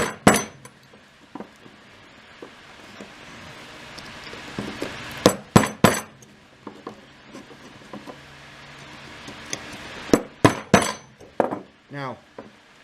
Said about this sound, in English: Now I'm going to take my awl and put it there and just drive it down